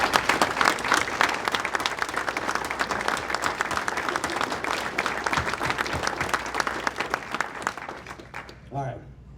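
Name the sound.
audience applause at hall of fame ceremony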